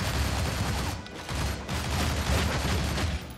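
Rapid, dense gunfire from the video game Shank rattles continuously for over three seconds, with two short dips where the shooting pauses briefly before resuming loud and close.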